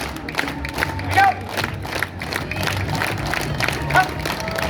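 An outdoor street-show crowd at dusk in downtown Belleville claps in unison, a rhythmic pattern of repeated claps under crowd noise and a performer's shouting voice.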